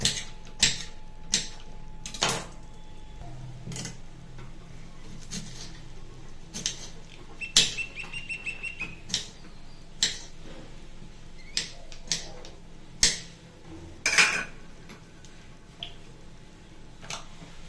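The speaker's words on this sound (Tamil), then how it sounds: "பொடி பொடியாக கட் பண்ணிக்கலாம்." Sharp knife chops strike a cutting board in an irregular series, close by, with short pauses between bursts of quicker cuts, as raw mango is finely chopped.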